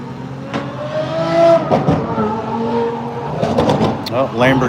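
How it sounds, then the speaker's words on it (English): Lamborghini Aventador SVJ blasting past a convention center at SEMA, its engine rising in a loud, rasping, revving sweep close by, with people talking over it. "Lamborghini Aventador SVJ, if you heard that. That's what just blasted by the convention center."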